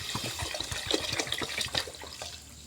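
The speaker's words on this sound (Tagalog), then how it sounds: "Tapos sunod na natin ang tubig." Water pours into a pan of cooking pancit, making a close, bubbling splash that runs steadily for a couple of seconds and then tapers off.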